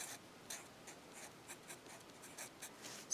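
A pen scratching on paper while a math problem is worked out, heard as a faint, close series of quick, rhythmic strokes with no talking.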